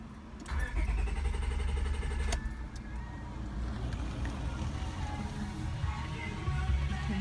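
A 1998 Honda Accord's engine cranks over and over without catching, a close, rhythmic churning that drops off briefly, then resumes, with a faint voice in the background.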